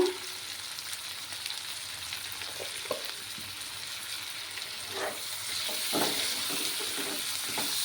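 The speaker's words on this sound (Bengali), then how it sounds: "দিয়ে ভালোভাবে নাড়াচাড়া করে নেব" Diced potatoes with turmeric frying in a pan, a soft steady sizzle with quiet intermittent scrapes and knocks of stirring throughout.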